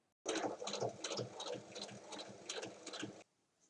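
A sewing machine stitches a Japanese-style fabric bag in one continuous burst of rapid, rattling needle strokes for about three seconds, close and fairly quiet, then stops.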